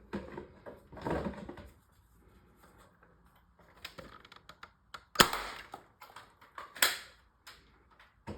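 Modified dart blaster firing at a target: a few sharp, close clicking shots with short mechanical rattles, spaced apart among quiet gaps.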